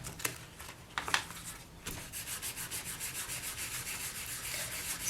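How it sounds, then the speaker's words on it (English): Quick, rhythmic rasping strokes of fine 400-grit polishing paper sanding a small polymer clay piece, close up, a few louder scrapes first, then an even back-and-forth pattern. "you just want to start sanding the back, sides and front"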